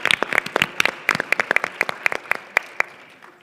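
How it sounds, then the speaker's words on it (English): A room of conference attendees at a housing and homelessness plenary gives a round of applause, with distinct individual claps over a crowd wash that tapers off toward the end. "please give a big round of applause for Ari and Merit"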